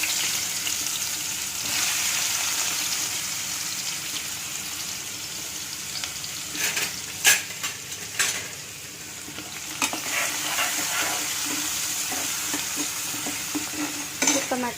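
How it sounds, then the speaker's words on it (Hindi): Spices sizzle in hot oil as a tadka for rajma curry, a continuous frying hiss with occasional stirring clatter and brief louder crackles, close and alone with no talk. "तो अभी मैं तड़का दूंगी।"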